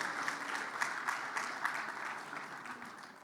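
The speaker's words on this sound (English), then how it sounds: "A round of applause for Nigeria, please." A conference audience gives a round of applause, steady dense clapping at moderate volume that tapers slightly toward the end.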